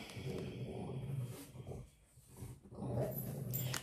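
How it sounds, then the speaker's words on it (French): A dog growls and snarls in excited bursts nearby, with a brief lull midway before the agitated noise resumes. "vous entendrez peut-être le quart d'heure de folie du toutou"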